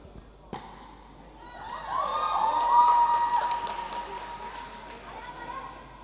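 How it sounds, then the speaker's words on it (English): Crowd applause and cheering at a pickleball match after a long exchange, swelling after a sharp paddle pop and fading over several seconds while a commentator talks. "a round of applause from Kingsley and Burr as the other team gets the ball back"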